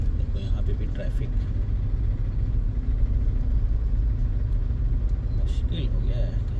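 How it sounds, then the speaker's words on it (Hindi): Road traffic in Whitefield, Bangalore, a constant low engine rumble of cars and buses with faint horn-like tones, while someone talks over it. "देखो यहाँ पे भी ट्रैफिक,"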